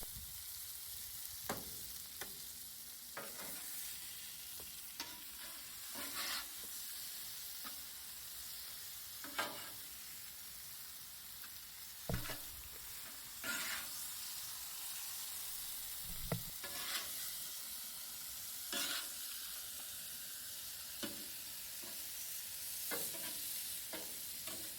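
Spicy shrimp sautéing in a hot pan, a steady close sizzle broken by repeated scraping and clicking strokes as the shrimp are stirred and turned, with no talking.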